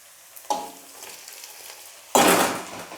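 Tomatoes hit a hot pan for a fish curry, each addition setting off a loud burst of sizzling frying over a quieter steady crackle.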